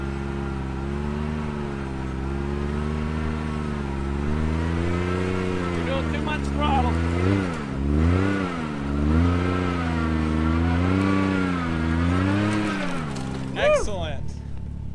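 Engine of a vehicle stuck and being rocked back and forth, revving in rising and falling surges at medium throttle, loud and close, with a person talking over it.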